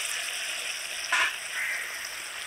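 Vegetables sizzle softly in a pan as turmeric powder is stirred in, giving a quiet, steady frying hiss. A single short scraping stir rises briefly in the middle.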